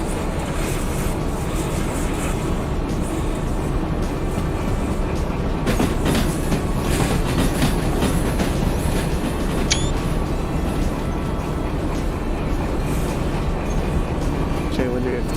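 A freight train with tank cars rolls along rails in the Derail Valley game, a loud steady rumble with rhythmic clacks throughout, a brief high squeal near the middle, and people talking over it.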